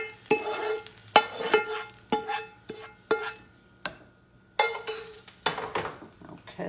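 Onions sautéing in a pan for a hashbrown casserole, crackling sizzle with repeated clanking strokes of a spoon stirring against the pan, a brief quiet pause, then more stirring.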